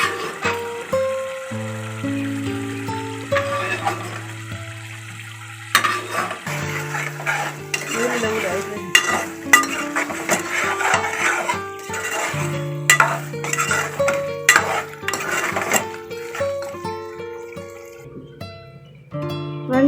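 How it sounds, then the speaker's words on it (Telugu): Cut ivy gourd pieces fry lightly in oil for a mutton curry, with soft sizzling and occasional utensil clinks from stirring beneath background music. "దొండకాయలు కట్ చేసి నూనెలో లైట్గా వేయించాలి"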